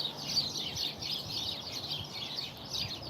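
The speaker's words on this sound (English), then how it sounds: "All my birds are complaining because those big birds," Small backyard birds call in alarm as larger birds threaten them, a busy, continuous chorus of chirps and clucking at moderate distance, with no talking.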